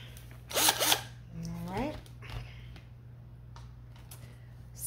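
Driver bit tightening a screw on a custom toilet mold, a short close buzzing burst near the start followed by a rising whir, then quieter clicks and handling noises.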